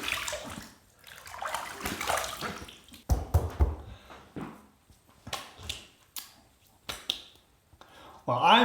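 Water splashes and drips as a razor and face are rinsed after a shaving pass with a collapsible travel shave bowl, in short irregular bursts with quiet gaps between them, close by.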